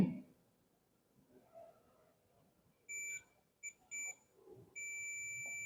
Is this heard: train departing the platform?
no